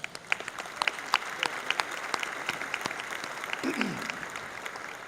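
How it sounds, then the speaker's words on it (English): Steady applause from a crowd, dense clapping with a few sharper claps standing out, sustained for several seconds at moderate loudness. "please join me in giving our staff at MEC a big round of applause"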